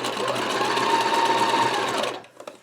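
A sewing machine zigzag-stitches fabric scraps in one continuous, fast, even run of about two seconds, then stops, leaving only a few faint clicks.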